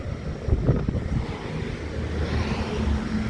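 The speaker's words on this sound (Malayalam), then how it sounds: "ഈ കാറ്റ് കൊണ്ട് പൊടി വരെയാണ്, ഭയങ്കര പൊടിക്കാറ്റ്." Strong dusty wind roars and buffets steadily across the microphone, a dense, rushing noise that never lets up.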